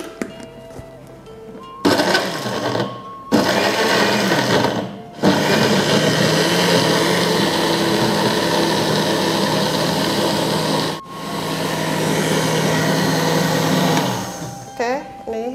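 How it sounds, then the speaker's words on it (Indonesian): A kitchen blender grinds ingredients for Indonesian ayam ungkep in several loud, close bursts, with short pauses between pulses and a long steady run. "Oke, kita blender ya."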